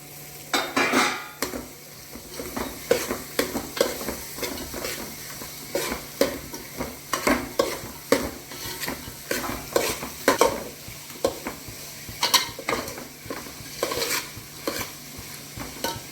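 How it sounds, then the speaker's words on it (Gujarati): Chopped onions sizzle in hot oil in a pan for a tempering, with a spoon repeatedly scraping and stirring in irregular bursts of clinks against the metal over a steady soft frying hiss, no voices. "અહીંયા ડુંગળી નાખી દીધી આપણે બધું વઘાર કરીને"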